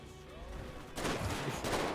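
Video game gunfire aimed at a vehicle's tires breaks out after a quiet second, a rough burst of shots that continues to the end, fairly faint overall.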